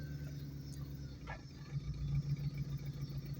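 A car engine idling at a stoplight with a rattle and no exhaust, a steady low rumble that swells slightly louder in the second half, close and alone with no talk.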